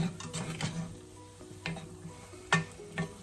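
Mushrooms going into a hot pan for a fish stew, giving a steady close sizzle with a few clinks and scrapes of utensil against the pan.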